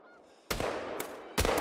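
Geese honk loudly in the hunting video game theHunter: Call of the Wild, two sudden bursts of harsh calls, close and forceful, after a quiet start.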